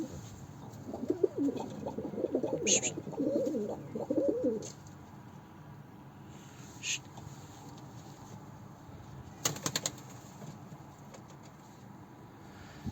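Bozkırlı Eke pigeons, including a female, coo in low, throaty bursts for the first few seconds, then quieter shuffling and a few faint clicks follow.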